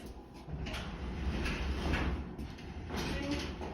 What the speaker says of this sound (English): And once you're done, push the oven back.